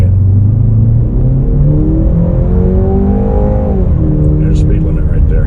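A 2021 Jaguar E-Pace P250 accelerates at full throttle from 0 to 60, its engine droning loud and close as the pitch climbs through gear changes, with a voice speaking over it.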